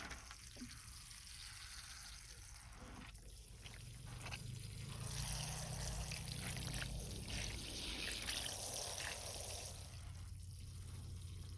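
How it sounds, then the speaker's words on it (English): Water is poured over small potted black locust seedlings, a soft, close trickle and patter into soil that thickens midway and runs on steadily, with faint handling noises around it. "let's get some water on these things."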